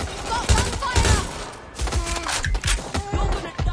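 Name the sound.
gunfire in the video game Watch Dogs Legion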